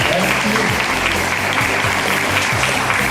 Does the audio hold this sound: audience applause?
yes